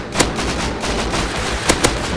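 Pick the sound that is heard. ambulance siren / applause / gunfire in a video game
gunfire in a video game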